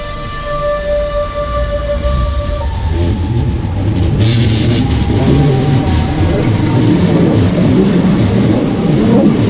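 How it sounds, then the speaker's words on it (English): A train pulls out of the Montserrat station with a loud, low rumbling engine and rolling noise that builds steadily, with brief high tonal whines early on and clattering bursts midway. "we can take a look at my train leaving the station"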